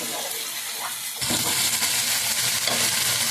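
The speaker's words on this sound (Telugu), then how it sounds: "ఇవన్నీ కలిపి అల్లం పచ్చివాసన పోయేదాకా అయితే వేయించుకున్నామండి" Ginger-garlic paste and spice mixture frying in hot oil while beef is being cooked, a dense steady sizzle that suddenly grows louder partway through, with faint stirring close by.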